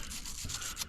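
A brief, harsh scrubbing whir of a wire brush spinning on a drill against metal, loud and close, with a few rhythmic surges.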